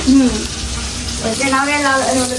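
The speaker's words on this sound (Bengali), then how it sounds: "এখানে হচ্ছে ইলিশ মাছ ভাজা" Hilsa fish frying in a pan makes a steady, fairly loud hiss and crackle, while people talk over the sizzle in a busy kitchen.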